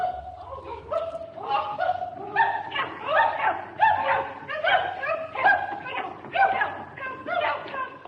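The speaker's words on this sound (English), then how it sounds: "He put the sound of yappy dogs onto a shot of old ladies to mock them." Small dogs yap rapidly and repeatedly in a shrill, busy chorus, with a low rumble underneath.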